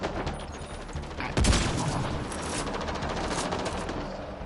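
A semi-automatic gun fires repeatedly in a video game, loud sharp shots in quick succession with a heavy blast near the start and continuing rapid fire after.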